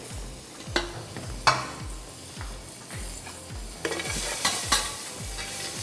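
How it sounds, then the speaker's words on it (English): Curry powder and garlic stirred in hot oil for Caribbean curry chicken, with a steady sizzle under repeated scraping strokes of a spoon against the pan, close and fairly loud, some strokes sharper than others. "you got to make sure you guide yourself with the curry and add it directly to the oil"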